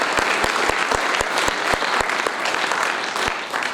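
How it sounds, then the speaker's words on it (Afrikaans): A church congregation claps in a steady, loud, fairly even rhythm, dense crowd applause filling the space. "Kan ons die Here hande klap?"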